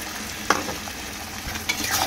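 Mutton frying in a pan with ginger-garlic paste, dried chili and cumin, a low steady sizzle broken by a couple of brief scraping stirs and soft clatters, close and fairly quiet, with no speech.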